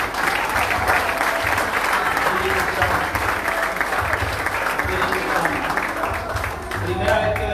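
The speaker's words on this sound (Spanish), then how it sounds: "Vamos a aplaudir al Señor." Congregation clapping in praise at a prophetic church service, a continuous dense round of applause with voices mixed in underneath.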